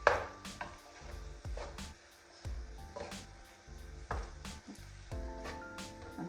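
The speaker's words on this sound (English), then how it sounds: "Mix all this up." Spaghetti bolognese ingredients are stirred in a pan, with a wooden spoon scraping and knocking in a steady rhythm over a soft sizzle.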